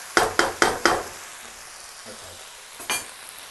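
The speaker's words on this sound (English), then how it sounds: "we're stir frying this at high temperature" Chicken with onions stir frying at high temperature in an uncovered pan, four sharp loud stirring scrapes in quick succession, then a soft sizzle and one more stir near the end.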